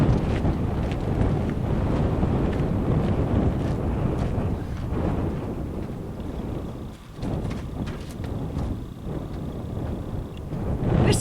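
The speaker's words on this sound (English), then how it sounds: "right now it's windy out here, as you can probably hear and see" Steady wind buffets the microphone outdoors during setup of an Aliner Ranger 12 camper, a loud, continuous rushing roar with small gusts and occasional knocks, and no talking.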